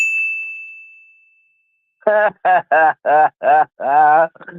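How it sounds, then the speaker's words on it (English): A single bell ding rings out clear and close, then slowly decays to silence before a run of short, duck-like quacking sounds follows. "I haven't got a ding dong. I've only got a ding."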